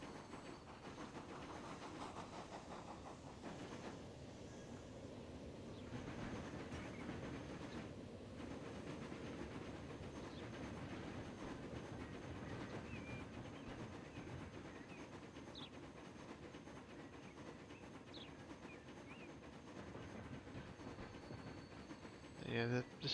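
Trains roll along a busy rail line in the game Transport Fever, a continuous low rumble and clatter of wheels at moderate distance, with a voice talking over it at times.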